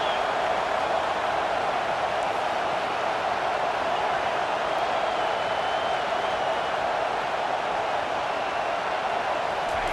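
A packed stadium crowd in the video game EA Sports College Football 25 keeps up a steady, dense roar behind the defense in the red zone, with no break or rhythm across the stretch.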